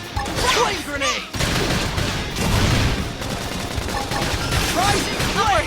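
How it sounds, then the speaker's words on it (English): Combat in Xenoblade Chronicles X with a flame grenade going off: loud continuous crackling blasts and impacts, with character voices shouting over the battle noise. "Flame grenade!"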